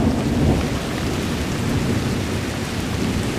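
A February thunderstorm in Chicagoland, with heavy steady rain and a continuous low rumble of thunder, loud and unbroken, with no voices.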